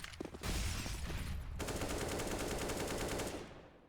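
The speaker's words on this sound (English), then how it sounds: "Once again, Kiev going for his trusty wallbang." Automatic gunfire from a wallbang in Counter-Strike on the Cache map during a professional match: a short burst, then a loud, sustained rapid-fire volley lasting about three seconds before it tails off.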